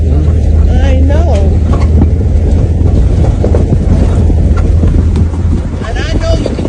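A car jolts and rattles over a broken, washed-out road in Jamaica, a constant rumbling drone with clattering bumps and wind buffeting, voices talking throughout.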